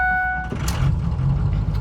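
A red truck pulls away with a loud, steady engine rumble, close by, and a brief tonal chime fades as it starts moving.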